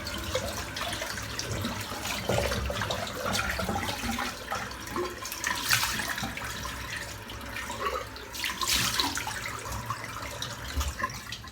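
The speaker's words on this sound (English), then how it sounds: "I'm just going to empty this water out because it's pretty soaked up and full of hair." Hair-filled shaving water pours and gurgles down a bathroom sink in a continuous, loud rushing stream with splashing swells, lasting several seconds with no voices.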